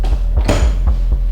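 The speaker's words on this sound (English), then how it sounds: "he swears that he heard this door slam" A heavy door at a brewery banging, with several dull thumps and one louder slam in quick succession, close and loud.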